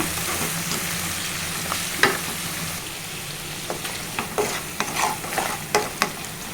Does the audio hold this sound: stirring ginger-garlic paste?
yes